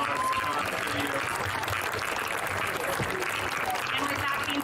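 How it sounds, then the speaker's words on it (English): Steady audience applause at a Hope @ Home event, continuous dense clapping throughout with some voices mixed in underneath. "another round of applause for you"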